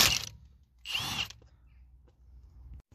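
Impact wrench on the rear brake of a BMW E-series car working a 6 mm hex bolt: two short, loud, high-pitched whirring bursts separated by a brief pause, followed by faint shop noise.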